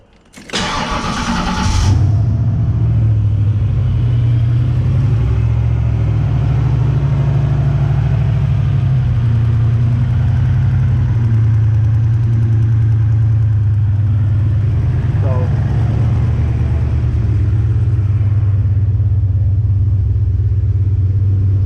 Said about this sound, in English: Still got a little bit of a lifter tap for some reason.